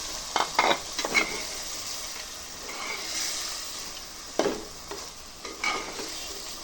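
Chicken pieces drop into oil and fried spice paste for a Bengali chicken and ash gourd curry, sizzling steadily while a spoon scrapes and stirs in bursts against the pot, with louder clattering strokes near the end.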